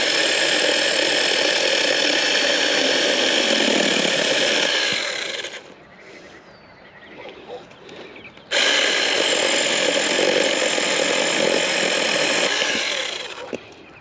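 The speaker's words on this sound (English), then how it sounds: "Let me get my little mini chainsaw." A small mini chainsaw cuts firewood, running loud and close with a steady buzzing whine. It cuts out for a few seconds midway, then revs back up and runs on to the end.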